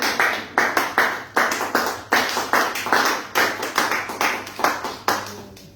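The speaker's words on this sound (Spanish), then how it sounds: "yo le voy a invitar a que usted le brinde un fuerte aplauso al Señor" Worshippers in a church clap loudly for the Lord in a strong, regular rhythm, with crisp, evenly spaced beats running steadily from start to finish.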